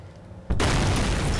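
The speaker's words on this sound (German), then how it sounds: "Wieso ist es denn jetzt explodiert?" After a brief quiet moment, a sudden loud explosion in the horror video game Penumbra: Overture bursts in and roars on as dense, sustained noise.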